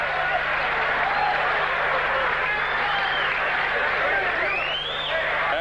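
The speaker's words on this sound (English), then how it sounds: "The crowd loving it." Boxing arena crowd at a fight night in a hotel ballroom, cheering and applauding after the final bell of the main event, a dense continuous roar of claps and shouts throughout.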